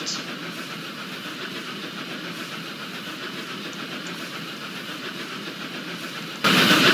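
A Roblox video-game steam train rumbles along steadily with a continuous chugging roar, then the sound suddenly grows louder and brighter near the end.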